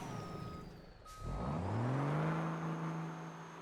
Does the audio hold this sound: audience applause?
no